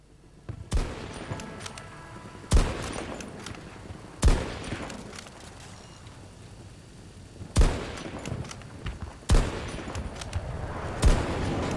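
A deployed sentry turret in Battlefield 2042 fires six sharp, loud bursts at uneven intervals, each followed by a rumbling echo that fades before the next volley.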